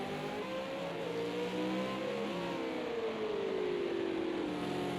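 V8 Supercars racing at Circuit of the Americas in the 2021 ANZCRL round: a loud, continuous engine roar whose pitch climbs and falls with shifts and acceleration, heard alone throughout.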